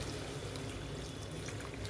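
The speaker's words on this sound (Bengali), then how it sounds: "তো এখানে আমি জল দিয়ে দিচ্ছি" Water pours into a pan of lightly browned chicken being steamed without oil, a soft continuous trickle and splash heard close and fairly quiet, with no talking.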